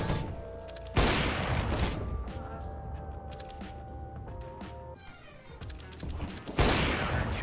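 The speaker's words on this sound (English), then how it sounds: "Did you hit him with nades?" A sharp, loud grenade blast in a video game, then a stretch of rapid gunfire and tones, then a second heavy blast near the end.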